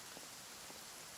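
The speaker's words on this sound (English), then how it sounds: "And it's still raining." Rain falls in Genshin Impact, a faint, even hiss of drizzle with a couple of soft droplet taps, heard alone and quiet.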